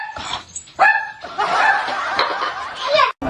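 Dogs that were fighting bark and yip sharply in quick, loud bursts close by, with snarling mixed into the chaotic noise.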